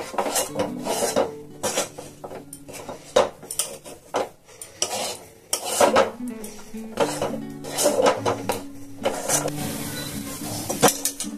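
A thick kheer mixture is stirred in a metal kadai, giving irregular scraping and clanking bursts of spoon against pan with pauses between strokes, fairly close.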